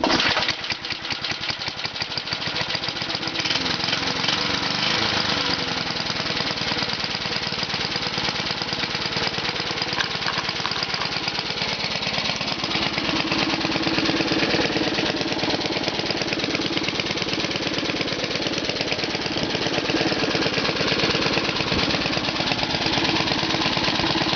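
A 1966 Briggs & Stratton small engine on an old push lawn mower runs steadily and loudly close by, with no governor spring fitted, its rapid chugging drone holding one speed throughout with a rough, knocking edge.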